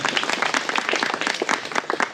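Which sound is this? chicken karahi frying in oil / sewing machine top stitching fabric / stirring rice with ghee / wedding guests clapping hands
wedding guests clapping hands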